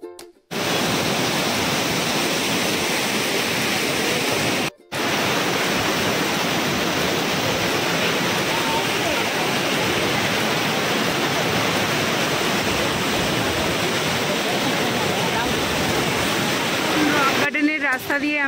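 A roadside waterfall in Darjeeling roars as a dense, steady rush of falling water that fills the whole clip at close range, broken only by two brief dropouts near the start.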